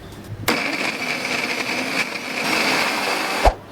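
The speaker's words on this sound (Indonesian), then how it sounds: "Sudah saya blender." Onions whir in a kitchen blender, a steady close motor grinding that starts abruptly and runs for about three seconds before stopping with a small knock.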